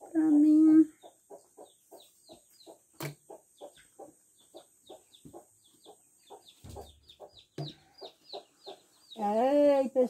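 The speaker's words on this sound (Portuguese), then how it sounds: "Eita, chegou a galinha para os pintinhos pedindo comida, viu, gente?" A hen clucks for food in a steady run of short, close, soft clucks, with louder drawn-out calls at the start and end and a faint high hum underneath.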